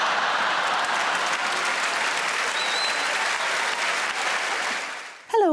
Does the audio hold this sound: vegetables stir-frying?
no